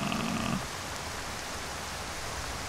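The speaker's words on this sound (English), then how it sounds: "Oh god, the rain and thunder are all the way up." Steady heavy rain hiss with a low rumble fills the whole stretch in Skyrim, a dense broadband wash continuous and fairly loud, with a brief tonal game sound at the very start.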